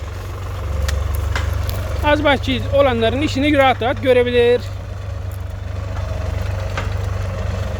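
A New Holland T480 S tractor engine idles with a steady low, even drone underneath, while someone talks over it for a few seconds in the middle.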